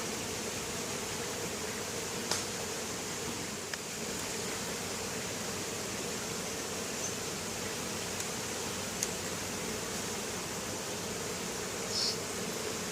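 Honey bees swarm inside an opened hive, a dense continuous buzzing drone that stays steady and close throughout, with a few faint clicks and no voices.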